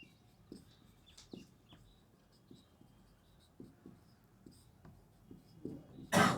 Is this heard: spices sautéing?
no